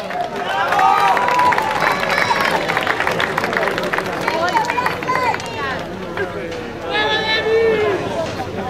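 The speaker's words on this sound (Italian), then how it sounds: "Dopo Rocco Porcaro l'applauso più forte per Demetrio" A crowd at a motorsport slalom event, loud cheering, clapping and shouting voices blending into a dense roar throughout.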